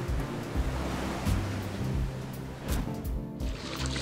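Ocean waves break and wash continuously at a surfing beach, a loud, close, steady roar of surf with gusts of wind, and no voices.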